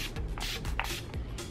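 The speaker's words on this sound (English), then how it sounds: "Just four little spritzes is enough." Four quick, hissing spritzes of Urban Decay All Nighter makeup setting spray, soft breathy bursts close to the mic in a quiet room, with light handling rustles between them.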